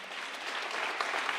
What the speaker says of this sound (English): well, I'm glad that reserves get an applause.